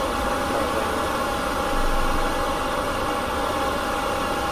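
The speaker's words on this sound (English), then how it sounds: "we're going to start up engine 2 first" Boeing 737 MAX engine number two in the iFly flight simulator gives off a steady, loud, broadband roar with a constant whine, holding level throughout without voices.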